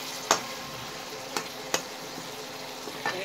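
Potatoes, parwal and tomato fry in a pan with a steady low sizzle, punctuated by a few sharp spoon taps and scrapes from stirring, close and without talk.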